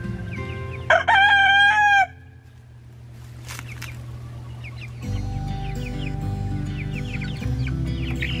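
Backyard chickens just out of their coop for the first time, with a rooster's loud crow early on, then steady clucking and chirping over a low continuous hum, no talking.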